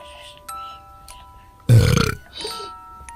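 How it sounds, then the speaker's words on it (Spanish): A baby gives one loud burp after bottle feeding, a short strong burst that stands out clearly, with soft background sounds before and after. "Eructó bien fuerte."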